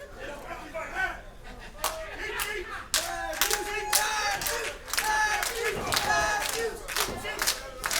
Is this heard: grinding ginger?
no